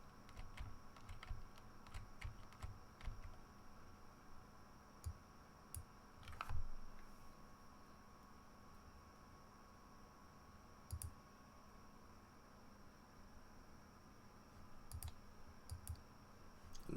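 An auto clicker taps out fast, faint mouse clicks in quick bursts and steady runs against a low background hum, with no talk.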